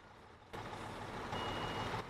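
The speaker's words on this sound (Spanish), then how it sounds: "Pues yo le doy reversita a esto." Truck reversing alarm beeping steadily in the Construction Simulator video game, a repeated tone over continuous engine rumble and noise, loud and close, with no talk.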